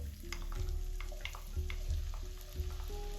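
Chopped garlic frying in oil in a pan while saag gosht is cooked, a close sizzle broken by several rhythmic spoon scrapes and knocks against the pan, with no speech.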